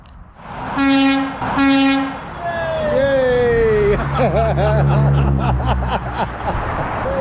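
A passing train sounds two long loud horn blasts, then rumbles and clatters past close by with squealing wheels, while people talk over the noise.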